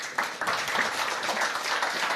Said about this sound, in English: Let's just give him a round of applause for this presentation,